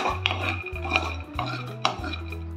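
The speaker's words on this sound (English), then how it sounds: "Keep stirring time to time." A peanut and sugar mixture being stirred in a pan on high flame, with repeated scraping and clinking of a utensil against the pan over a steady low hum.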